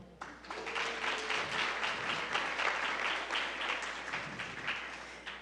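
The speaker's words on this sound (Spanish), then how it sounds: "Así que un aplauso" A conference audience applauds after a big data lecture at an international symposium, moderately loud clapping from a crowd sustained evenly throughout.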